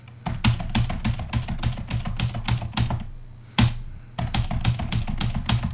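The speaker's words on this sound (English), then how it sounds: "I just keep going on randomly typing stuff in and it keeps reading and so forth" Rapid random typing on a computer keyboard, close and crisp, in steady bursts of clicks broken by one short pause and a firmer keystroke, with no talking.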